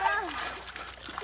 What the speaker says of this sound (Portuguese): E já tem uma cascata aqui para eles, ó.